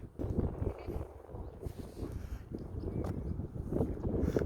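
Gusty wind blows across an outdoor dog park, a rough low rumble of wind battering the microphone that rises and falls in uneven surges, fairly close and steady.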